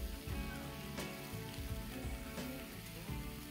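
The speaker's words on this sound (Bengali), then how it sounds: "ভালো করে চিকেনটাকে ভেজে নেব।" Chicken frying in a pan for a home-style shahi chicken korma, a dense, steady sizzle with crackling pops and occasional stirring clatter, close and continuous without speech.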